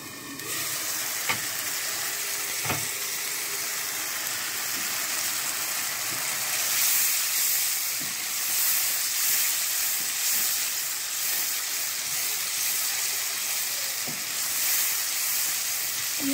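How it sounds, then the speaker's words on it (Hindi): Tomato and spice masala fries steadily in a covered pan for a spicy restaurant-style chana dal, giving a continuous close sizzle and hiss with a few faint clicks, and no talking. "ये हमारा मसाला अच्छे से भून रहा है"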